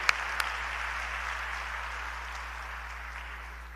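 Audience applause at a speech by Dr Jean-Bertrand Aristide, a dense, steady wash of clapping that slowly fades, with no talk over it.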